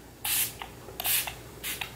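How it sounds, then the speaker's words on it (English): Primer water spritzed as a facial mist from a pump bottle: three short, airy sprays in quick succession, close and crisp against a quiet room. "I am going to use this as my primer, but I love this as a setting spray and just a facial mist."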